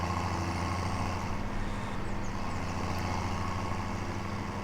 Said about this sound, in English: the engine is just, oh, what a sound.